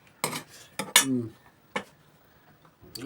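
A metal utensil clinks against a plate while breaking a whole egg in an egg and eggplant curry, giving several sharp, separate taps and scrapes with short pauses between them.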